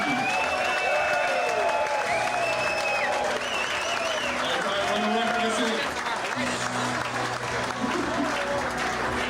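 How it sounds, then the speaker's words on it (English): A crowd at a Little League banquet applauds and cheers for former pitcher Bill 'Spaceman' Lee, dense sustained clapping with whistles and voices mixed in, loud and continuous throughout. "Ladies and gentlemen, let's have a big round of applause for Bill, the Spaceman Lee"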